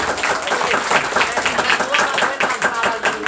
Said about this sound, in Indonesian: tepuk tangan buat Pak RT kita.